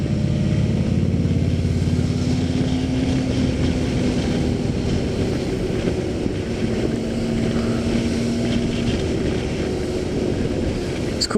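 A liter-class sport bike on the ride at the International Motorcycle Show drones as one continuous engine note with wind roar. The pitch sweeps slowly and holds steady, close and loud for the whole stretch with no talk.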